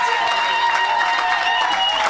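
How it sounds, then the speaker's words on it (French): A church congregation cheers and applauds for Jesus Christ during a French-language worship service, a dense, steady wash of clapping and raised voices filling the whole stretch at loud volume. "donnons une grande acclamation à Jésus-Christ"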